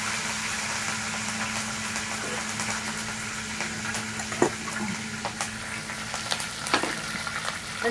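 Curry leaves, garlic and coriander hit hot oil with cumin and mustard seeds for a spicy kadhi tempering, producing a close, continuous sizzle with crackles and occasional louder pops and stirring clinks, no talking.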